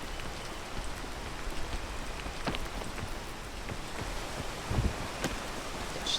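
Steady rainfall in the video game Peak, a constant hiss of drops at moderate level, with a few sharper drip impacts and no voices.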